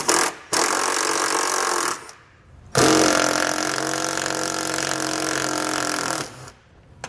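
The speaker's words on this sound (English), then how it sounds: "We're going to use our 10mm socket to remove the nuts." A power tool fitted with a 10mm socket runs in three loud, sustained whirring bursts separated by short pauses, removing nuts from a panel under a 2014 Kia Forte.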